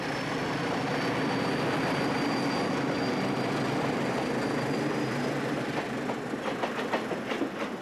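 Class 1400 locomotives run on the Douro line toward Oporto, giving a steady rumbling roll with rhythmic clickety-clack of wheels over rail joints growing more pronounced toward the end.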